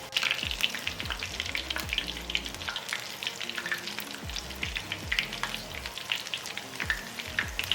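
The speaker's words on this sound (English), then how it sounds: "We're not gonna overcrowd the pan, so I'm gonna add a few at a time. Fry it up in batches." Tex Mex egg rolls fry a few at a time in a pan of oil, giving a steady, dense crackling sizzle that runs throughout with small pops and occasional soft clinks, with no talking.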